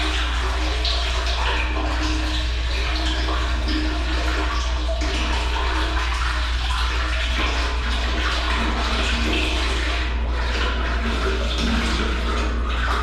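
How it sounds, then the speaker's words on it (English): Motor oil poured slowly into a Subaru WRX FA20 engine during an oil change, a steady liquid gurgle and trickle lasting over ten seconds alongside a constant low hum, with no talk. "So just dump your oil in slow. Take it easy, don't dump it fast"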